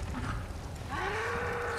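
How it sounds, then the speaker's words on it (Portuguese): A cow moos in the Resident Evil 4 Remake as frightened cattle run, a drawn-out rising moo over a low rumbling background, moderately loud and without speech. "As vacas estão correndo de medo."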